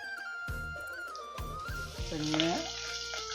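Fenugreek seeds warming in a pan give a few sharp metallic clanks before oil goes in, setting off a rising burst of sizzling that carries on steadily to the end.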